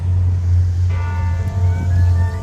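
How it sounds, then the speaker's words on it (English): Church bell ringing in downtown Toronto, a sustained metallic tone with overtones entering partway through over a loud low city hum and traffic. "when I started, that bell was ringing"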